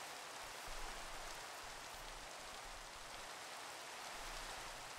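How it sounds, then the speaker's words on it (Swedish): Steady rain in Minecraft, a continuous soft hiss of falling drops spread evenly and faintly across the whole stretch, with no voices over it. "Vi är ute när det regnar"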